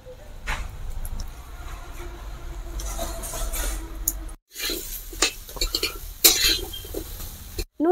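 Chopped green banana and salt being stirred in a pan: intermittent scraping and clinking of a utensil against the pan, moderately close, with a brief pause midway before the stirring resumes.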